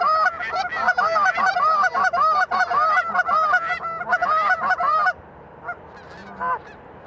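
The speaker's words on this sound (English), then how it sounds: "The decoys were bringing the birds in to take a look, and we were trying to get these flocks to set their wings and come on in." Geese honk loudly and repeatedly as flocks fly in toward decoys during a goose hunt on Michigan's Kalamazoo River, a dense chorus of overlapping calls that stops abruptly, leaving a few scattered honks.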